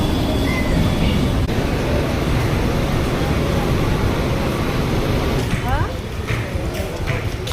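A Mumbai Western line local train running toward Churchgate gives a loud, steady rumble and clatter of wheels on track throughout, with brief squeals near the end and people talking faintly inside the carriage.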